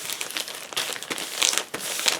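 A paper sticker is peeled off its backing close up, giving a continuous dry crinkling and crackling with small tearing snaps for a couple of seconds, and no voices.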